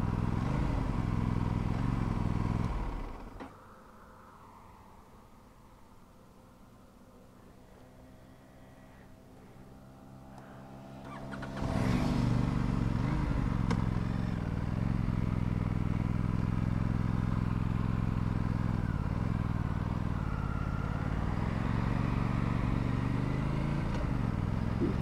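An Aprilia RS 457 motorcycle that has broken down mid-ride runs at a steady idle, drops to a low quiet murmur for several seconds, then returns to a loud constant drone without revving up.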